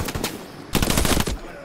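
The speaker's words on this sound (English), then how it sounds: "Alright, I got a machine gun. I'm ready." Two short bursts of rapid machine gun fire in an indoor video game firefight, a brief rattle followed by a longer, louder string of shots after a pause.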